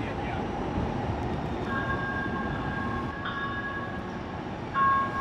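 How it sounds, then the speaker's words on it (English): A southbound Blue Line light rail train to Mall of America rolls into a Minneapolis-area station with a steady rumble and high screeching wheel tones, a brief loud burst near the end, with faint voices. "A southbound Blue Line train to Mall of America is arriving on track number 2."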